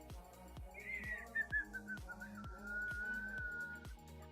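A person whistles a wavering, sliding tune for several seconds, fairly clear and close, over a steady rhythmic background beat.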